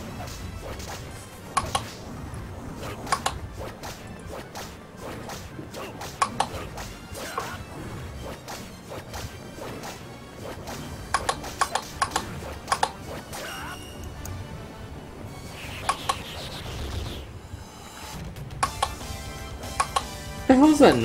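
A computer mouse picked up by a sensitive microphone clicks and taps in irregular sharp bursts, close and fairly loud, throughout a low background hum.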